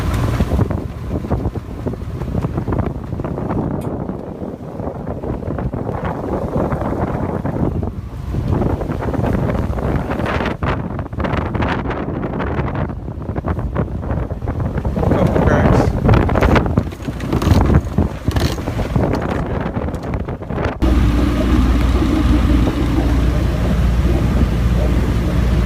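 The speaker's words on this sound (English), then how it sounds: "Calmer than it was, but it's still pretty windy." Strong wind buffets the microphone aboard a sailboat running downwind in choppy water, a loud continuous roar with gusty surges, water rushing along the hull and occasional talk.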